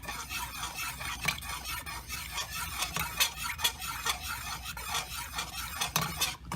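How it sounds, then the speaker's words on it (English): Melted candle wax with lavender and green tea scent and a color chip is stirred in a pot, producing continuous close scraping and soft rubbing strokes with occasional light taps of the utensil. "And you're just going to continue to stir it."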